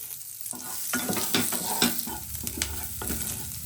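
Chopped garlic fries in a little oil in a wok, a steady close sizzle with repeated spatula scrapes and clinks as it is stirred.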